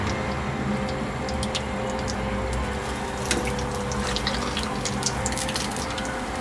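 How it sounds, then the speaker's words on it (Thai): Pieces of crispy pork belly dropped back into hot oil in a Teflon pan for a second frying, giving a steady, even sizzle and bubbling with faint ticking pops. "ถ้าเราทำการ เอาหมูเราลงไปทอดอีกทีนึงครับ"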